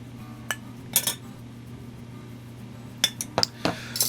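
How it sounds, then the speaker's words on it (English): Smoked chicken wings being mixed with barbecue sauce in a bowl, a few close metallic clinks and scrapes of a utensil against the dish, spaced irregularly over a quiet background hum. "Just gonna mix that up quickly"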